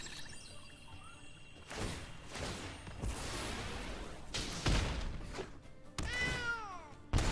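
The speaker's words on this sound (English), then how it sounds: "Meow!" Cartoonish cat meows from an MTG Arena card game, several short rising-falling cries near the end, layered over busy game sound effects and impacts.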